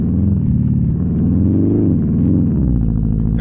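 A car in the Outerra driving game rumbles loudly and close, its engine note rising and dipping as it accelerates and changes gears over a few seconds, with no voice over it.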